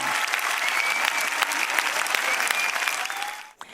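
A large concert crowd of over 4,000 spectators applauds a singer in Sicily, a dense, steady wash of clapping at full strength that holds throughout before cutting off abruptly near the end.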